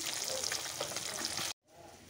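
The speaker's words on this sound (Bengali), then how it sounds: "মাছগুলো ভাজা বসিয়ে দিয়েছি, দেখো কড়াই তেল দিয়ে" Fish frying in hot oil in a wok, a close, bright sizzling hiss that cuts off briefly and then comes back softer.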